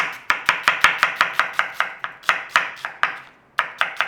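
Knife slicing onions on a chopping board for a one-pan chicken sauce, about fifteen crisp, evenly paced cuts close by, with a brief pause near the end before three more cuts.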